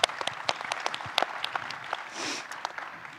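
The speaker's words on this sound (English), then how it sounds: "So round of applause," Audience at a conference keynote panel breaking into applause, a burst of dense clapping close by that holds steady for a few seconds without voices.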